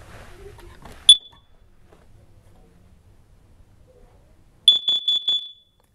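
A smoke alarm under test: one sharp high beep, a long quiet pause, then a burst of four rapid beeps, loud and close, with faint low background rumble and no talking.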